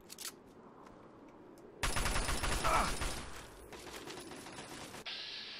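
A rapid burst of gunfire in the Fallout 3 video game, a loud stuttering volley after a brief quiet lead-in, then fading into lighter mechanical noise and a short closing tone.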